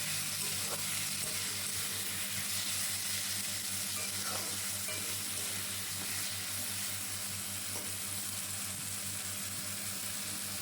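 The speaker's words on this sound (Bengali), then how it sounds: "এরপরে আলু, পেঁয়াজ ও লঙ্কাটাকে খুব ভালো করে একটু ভেজে নিচ্ছি।" Potato, onion and chilli frying in a pan give a constant, even sizzling hiss with a faint low hum beneath and a few small pops, close and unbroken throughout.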